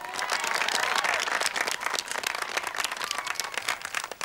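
An audience at an equestrian competition breaks into dense, sustained applause, many hands clapping at once close by, loud at first and easing slightly toward the end.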